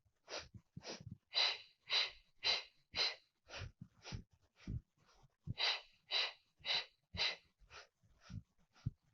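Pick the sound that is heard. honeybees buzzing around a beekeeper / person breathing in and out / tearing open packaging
person breathing in and out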